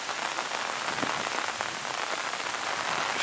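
Steady rain pours on a bridge in Hue during the November 2017 floods, a dense, even hiss of drops striking hard surfaces that stays loud and unbroken throughout, with no voices.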